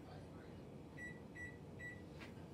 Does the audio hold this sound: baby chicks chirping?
no